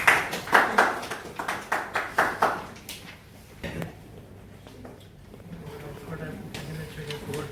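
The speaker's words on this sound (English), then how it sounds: "Please put a round of applause." Audience claps at an event, heard first as a run of distinct, rhythmic, fairly close claps that fade out, followed by quieter background sounds and some talking.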